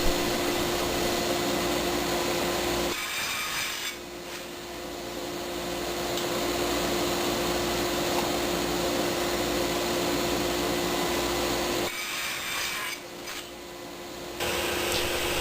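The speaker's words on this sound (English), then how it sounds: "Next I use my table saw sled to cut the slats to length." Table saw with a crosscut sled cutting wooden slats to length: a loud, steady motor whine broken by two cuts, each a short dip in tone as the blade passes through the wood, with no voices.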